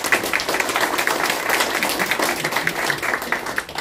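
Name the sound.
applause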